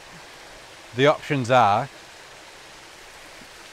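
Steady broadband rush of a stream and small waterfall near Brotherswater in the Lake District, flowing continuously at moderate level while a voice speaks briefly near the middle.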